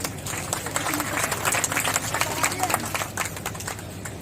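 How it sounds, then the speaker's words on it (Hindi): Applause rises from a crowd gathered at a farmers' union mahapanchayat protest meeting, a steady wash of clapping lasting several seconds with some voices mixed in. "जोरदार तालियां भाई साहब"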